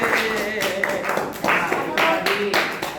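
A classroom group claps hands in uneven bursts and taps, loud and close, with a teacher's voice talking over and between the claps.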